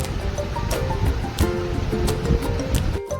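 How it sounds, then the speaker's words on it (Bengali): Raw chicken pieces are worked by hand with vinegar, chilli powder and salt, making dense wet squelching and irregular squishy bursts close by, continuing without pause for a few seconds. "দিয়ে ওটাকে ভালো করে আমরা মিশিয়ে মেখে নেব"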